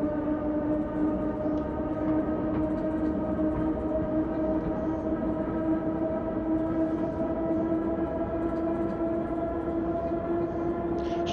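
An S-Bahn train running on the S25 line through Berlin in Train Simulator 2021, a steady loud electric motor whine with sustained tones over a constant rumble of rolling wheels, unbroken throughout.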